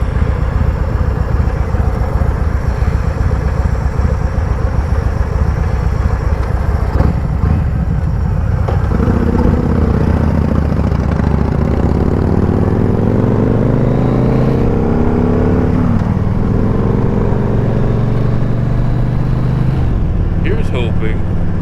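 Motorcycle engine droning while riding, loud and close with wind noise, the pitch rising and falling through gear changes and acceleration, with someone talking over it.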